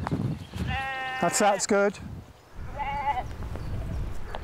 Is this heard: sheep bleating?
yes